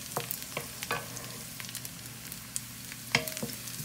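Onion and garlic sautéing in a pan for picadillo, a quiet sizzle under scattered sharp clicks and taps of a utensil stirring against the pan.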